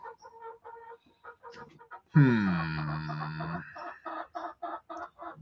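A chicken lets out a loud, drawn-out cluck-squawk lasting over a second, close and prominent, followed by softer clucking notes while someone talks over and around it.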